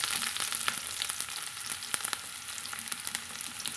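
Small shallots fry in oil with spluttered mustard seeds, a soft steady sizzle dotted with sharp pops and crackles, close but fairly quiet, with no one talking.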